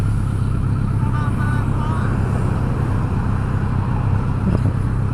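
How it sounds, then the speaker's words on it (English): A giant truck hauling a load rumbles past at a steady, loud level, a continuous low roar of engine and road noise that fills the whole stretch. "He's a giant truck carrying shit."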